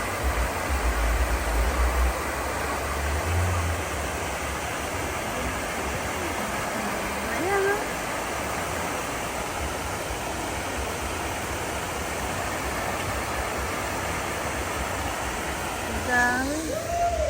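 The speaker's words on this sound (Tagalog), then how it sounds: "Ayun yung fountain na tubig" A park water fountain pours in a steady, broad rushing splash that stays constant throughout, with faint voices of people nearby underneath.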